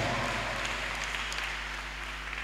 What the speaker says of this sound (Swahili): Pigie Bwana makofi mazuri na vigelegele.